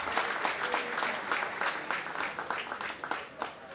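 Applause from a boxing crowd after a fight decision, with many individual claps and a moderate, steady level. The clapping is slightly uneven and fades a little toward the end.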